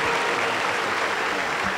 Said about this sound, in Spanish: vamos a recibirlo con fuertes aplausos para el Señor Jesús